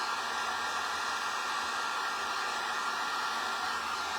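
A hair dryer blows steadily to dry freshly stenciled Christmas tags, a continuous airy whoosh with a faint whine, close and unbroken, with no one speaking.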